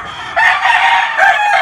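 A Kelso gamefowl rooster crows loudly and close by in two drawn-out calls, the second starting just after the first fades, with no talk over it.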